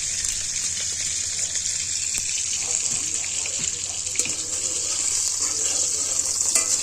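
Chopped garlic frying in hot oil in a village kitchen pan, a steady close sizzling hiss that holds evenly throughout with faint clicks and pops.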